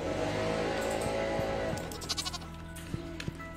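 Sheep bleating in the farming video game Stardew Valley, a few short wavering bleats over a steady hum of in-game music and ambience, with clicks and blips from the interface.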